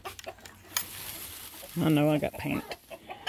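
Chickens on a farm cluck at feeding time in a short burst, a few close clucks and squawks standing out mid-clip, with a person talking around them.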